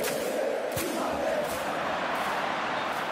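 A steady roar of a stadium crowd cheering in a FIFA 23 friendly between Flamengo and Al-Nassr. The wash of noise is continuous and full, with a few brief louder swells and no clear voice above it.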